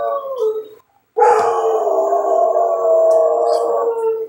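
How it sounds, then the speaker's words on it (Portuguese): A neighbour's dog howls loudly and close by in long, wavering drawn-out cries, with a brief pause after the first howl. "Olha o cachorro, gente."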